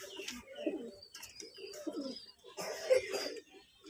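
Pakistani pigeons coo softly in a quiet space, low throaty calls repeating in short bursts with slight rustling, fairly faint and close.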